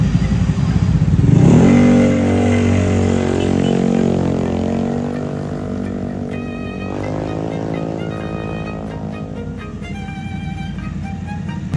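Suzuki V-Strom motorcycles arriving during an endurance ride event in Agoo, loud and close, their engines revving high then dropping and rising again in a sustained roar.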